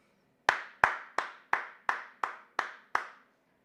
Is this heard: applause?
yes